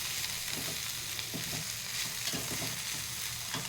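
Ivy gourd and besan curry stirred in a hot pan, a continuous hiss of frying with soft repeated scraping strokes of the spoon, close and without speech.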